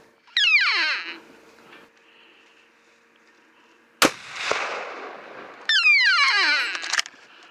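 A single sharp rifle shot during a Colorado elk hunt cracks out mid-clip, followed by a rumbling echo, while bird calls sweep through before and after.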